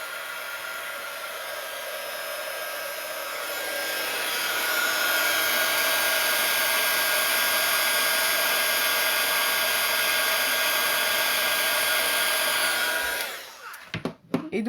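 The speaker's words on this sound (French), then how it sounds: "je vais faire chauffer le pistolet et où ça va faire du bruit" Heat gun running to melt embossing powder, a steady loud whooshing blower hum that ramps up and holds for several seconds before switching off with a few handling knocks.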